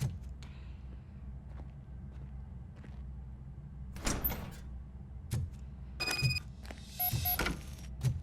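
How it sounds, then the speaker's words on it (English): Door opening in the video game RoboCop: Rogue City, heard as a few sharp mechanical clunks and a sliding burst over a low steady hum, with faint electronic beeps near the end. "Now let me get that door open for you."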